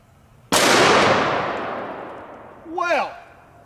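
A single loud shot from a 500 Magnum revolver fired into a steel plate, a sharp close crack with a long ringing, echoing decay, followed by a short burst of someone's voice.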